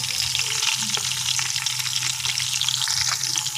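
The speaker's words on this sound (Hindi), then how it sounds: "गोश्त को हमने थोड़ा सा फ्राई कर लिया है।" Pieces of meat fry in hot oil with red chili for a Peshawari chana mewa pulao, giving a loud, steady, close sizzle that runs the whole time with no one speaking.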